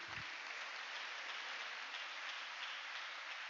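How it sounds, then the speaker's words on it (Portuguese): Church congregation clapping in praise during a worship service, a dense, even wash of many hands heard fairly faintly and at a distance, with no talk over it. "Quem pode dar uma salva de palmas pro Senhor Jesus?"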